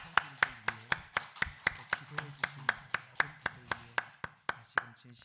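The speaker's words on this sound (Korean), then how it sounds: "우리 하나님께 감사와 영광의 박수 한번 함께 드리시겠습니다" Sharp, steady rhythmic clapping, about four claps per second, close and crisp, from a congregation during a Sunday church service, with a low tonal sound continuing underneath.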